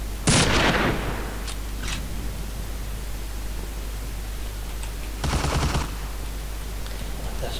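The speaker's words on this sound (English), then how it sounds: "Always a heavy machine gun." Heavy machine gun fire in Deadly Dozen 2, two loud bursts of rapid shots separated by a long stretch of steady background hiss, with a few faint distant pops between.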